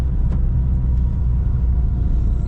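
A car rolls along a potholed, winding coastal road in heavy traffic, carrying a roof tent and driven slowly. A steady, close low engine and road rumble fills the whole stretch with no talk.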